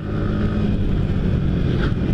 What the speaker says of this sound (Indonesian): Kita coba geber